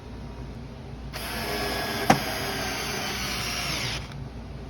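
A power driver runs screws into a Samsung dryer door in one steady, nearby whirring burst lasting about three seconds, with a small click partway through and quiet before and after.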